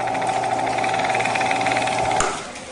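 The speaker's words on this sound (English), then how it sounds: "now I'm just going to slide this over the drill press" A drill press runs steadily with a loud, even motor whine and rattling vibration, the spinning continuing unbroken before a brief clunk near the end as the sound eases.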